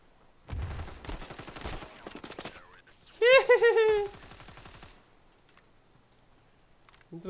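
Automatic gunfire in the mobile shooter Standoff 2, rapid clicking bursts of shots near the start, followed by a short clipped voice line and scattered quieter clicks.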